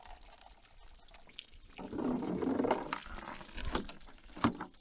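Liquid poured out of a shot-through plastic jug splashes and gurgles in a short, uneven stream, fairly quiet and close, with scattered drips and knocks.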